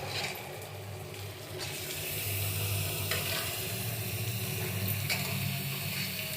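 Washed chicken pieces go into a hot pan with spices for chicken kosha, setting off a loud, continuous sizzle and fry that swells and holds steady throughout.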